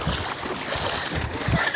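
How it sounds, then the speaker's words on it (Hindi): Clear water of the Ghaggar river babbling and splashing at sunrise, a close, continuous wash with small surges. "पानी की कलकल की आवाज़"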